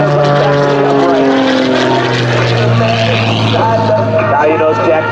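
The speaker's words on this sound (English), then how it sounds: "Rolls that airplane back to the upright." An aerobatic propeller airplane performing at an airshow drones loudly and continuously, its engine pitch sliding slowly downward as it passes, while an announcer talks over it.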